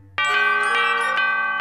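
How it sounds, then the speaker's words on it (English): Cartoon elephant bell ringing in an old Strawberry Shortcake episode: a bright, resonant chime that strikes suddenly and rings on with several lighter repeated dings, loud and close, with no talking. "An elephant bell."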